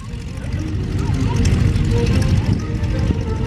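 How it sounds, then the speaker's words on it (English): A Waco biplane's propeller engine drones loudly and continuously in flight, a dense low roar that fills the short stretch without letup. "Chuck Tippett flying the number 8 Waco, John King's airplane."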